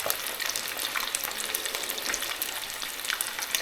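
Salt and pepper chicken wings frying in oil on an electric hob at just over medium heat, giving a dense, steady, close sizzle with crackling pops throughout.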